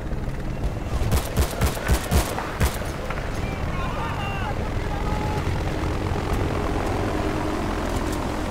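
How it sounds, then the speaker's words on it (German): Enemy helicopter lifting off during a Battlefield Bad Company 2 battle, with a rapid burst of gunfire early on giving way to a steady engine roar and whine that continues to the end. "Feindlicher Heli hebt ab!"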